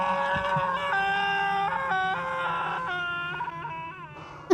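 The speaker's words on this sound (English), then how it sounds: "I amuse myself by listening to Murphy's dumb little screams" Murphy, the character in a Silent Hill video game, gives a run of thin, tonal little screams and wails in quick succession, fairly clear and alone, tapering off at the end.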